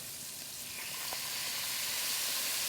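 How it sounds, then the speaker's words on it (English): Chopped onion and green pepper hitting a hot pan for Cajun-style andouille sausage with red beans and rice, giving a steady, close, bright sizzle that swells slightly and never breaks. "I'm going to add my onion."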